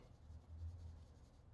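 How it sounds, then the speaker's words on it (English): Pencil lines on drawing paper being lightly erased, a brief soft rubbing sound, quiet and close, with no voices. "I'll lightly erase it."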